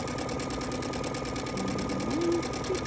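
A Baby Lock Crescendo sewing machine stitches fabric in a fast, even run of rapid mechanical ticks, close and steady, with a brief faint tonal squeak near the end.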